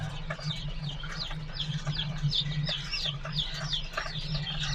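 A crowd of newly hatched yellow, white-tailed baby chicks peep constantly in high, overlapping chirps over a low steady hum.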